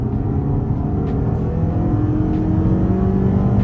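A 2023 Toyota Camry XSE's 2.5-liter four-cylinder engine revs hard under acceleration in second and third gear using manual shift controls, a loud, steady engine drone with rising harmonics heard from inside the car, no talk.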